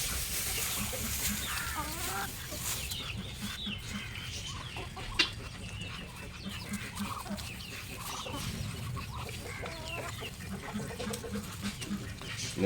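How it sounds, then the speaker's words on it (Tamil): Manila (Muscovy) ducks on a home farm give off busy calls, mixed with clucking fowl and other poultry nearby, a dense steady chorus of birds with one sharp knock midway and no talking. "மணிலா வாத்துக்கள் 3 பேர் இருக்காங்க."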